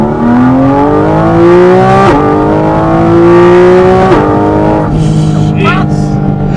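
A Porsche Cayman GT4RS engine revs hard on the road, rising through gears in three long climbing pulls, each broken by a sharp shift, loud and close inside the cabin while a voice speaks over it.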